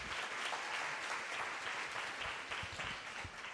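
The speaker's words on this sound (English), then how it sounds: "One more round of applause for Carol" Audience applause for a participant at a meditation retreat gathering, a steady wash of many hands clapping at a distance, fairly quiet and even throughout with no voices over it.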